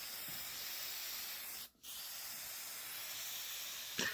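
A spray paint can releases a steady, close hiss while dusting a light coat onto a car body, broken by one short pause before the spraying resumes.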